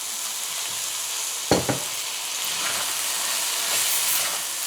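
Fried rice with casareep and Chinese sauce sizzles and hisses steadily in a hot pan, a bright constant frying crackle with a couple of sharp scraping stirs near the middle, no voices.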